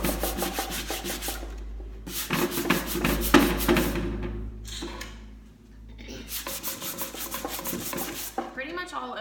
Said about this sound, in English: We're just gonna take the sandpaper and go up and down.